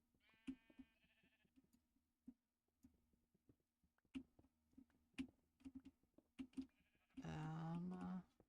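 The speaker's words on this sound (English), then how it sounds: "Sheep are weird, man." A sheep in Minecraft InfDev gives a single loud, wavering bleat near the end, following a run of sparse clicking ticks over a low hum.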